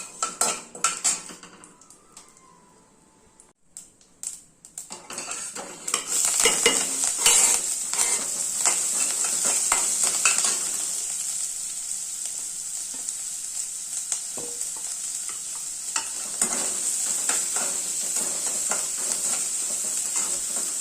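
Onion, green chilli, ginger and curry leaves hit hot oil after mustard seeds have spluttered, giving a quiet start and then a sudden loud, sustained sizzle with frequent metal stirring clinks and scrapes in the pan.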